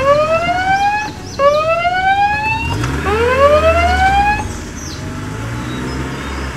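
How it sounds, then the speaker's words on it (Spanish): An ambulance siren wails in loud, rising sweeps that repeat close by, then trails off and fades toward the end, with no talking. "creo que ya está viniendo la ambulancia"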